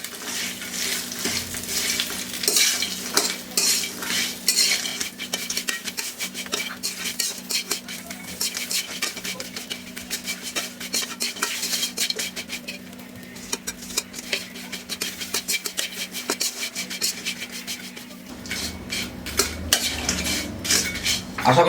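Fried chips tossed with spices and salt in a pan give close, busy scraping and rattling of a utensil against metal, with continuous clinks and a faint sizzle underneath, no talking.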